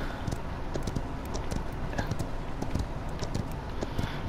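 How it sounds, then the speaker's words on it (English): Horse hooves clip-clop steadily at a riding pace in the video game Paladins, a continuous rhythmic patter under dense game noise and background ambience. "Right now I'm on a horse riding to the, getting where I need to get real quick."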